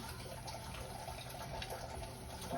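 Water runs from a kitchen tap in a steady, moderately faint gush, continuous and unbroken for the couple of seconds with no talking.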